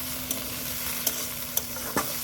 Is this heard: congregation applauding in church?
no